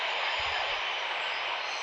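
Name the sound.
aircraft engine in RFS flight simulator video game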